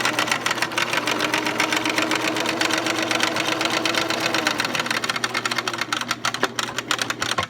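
Sewing machine stitching a handmade fabric face mask with a stretched rubber band, a steady fast mechanical whir with rapid needle clatter running continuously and close up.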